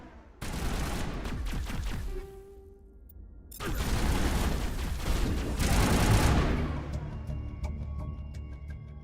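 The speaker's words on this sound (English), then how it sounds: "Open fire!" Sustained bursts of gunfire in Mass Effect Legendary Edition, a dense, loud volley that breaks off briefly and then resumes heavier, with rapid shots layered over booming impacts.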